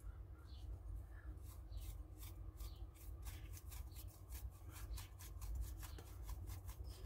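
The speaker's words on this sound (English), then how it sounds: "And then give it a brush with your pink brush." A brush sweeps excess powder off a card in a quick series of soft, dry scratchy strokes. The strokes are faint and close, repeating rapidly over a low background hum.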